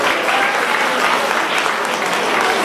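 An audience at a teacher's speaking event claps in dense, sustained applause that fills the whole stretch evenly, loud and continuous with no voices standing out.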